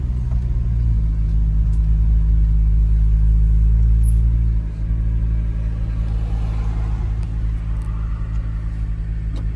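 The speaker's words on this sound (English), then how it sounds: "it's got that like supercar sound" Acura NSX supercar engine in sport mode, a deep steady rumbling drone close by that dips briefly midway before settling back to a continuous low roar, with no talking.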